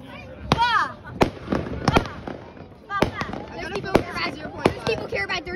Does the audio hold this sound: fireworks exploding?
yes